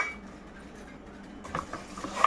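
Ceramic dinner set bowls and lids being handled during unboxing, a few light clinks and knocks of china near the end.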